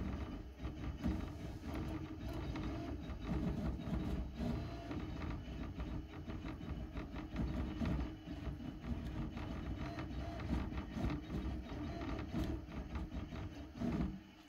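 A Redline 1501 embroidery machine traces the outline of a design before stitching, giving a steady low mechanical whir and hum that runs close and even for the whole stretch, with no voices.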